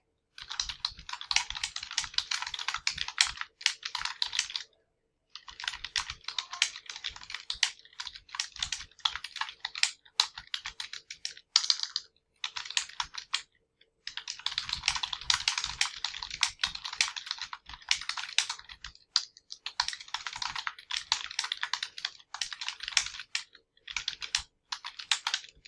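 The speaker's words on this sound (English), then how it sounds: "I'm really having trouble typing the word coordination." Steady typing on a computer keyboard, with rapid, close clicking keystrokes in long runs broken by brief pauses and no voices.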